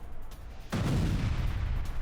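A large blast destroys a military base building, erupting suddenly and loudly partway through as a dense, sustained low rumble with crackling debris over a steady background.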